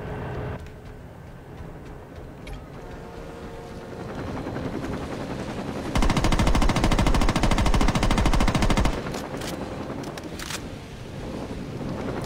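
Helicopter rotor drone and rapid gunfire in Saints Row 2, a steady loud roar with a dense burst of automatic fire in the middle, sustained and close.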